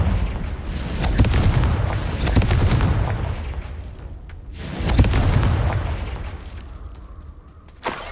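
Confringo blast spell from Hogwarts Legacy, a booming explosive burst followed by a second heavy blast about four seconds later, each rolling off into a rumbling decay with a short pop near the end.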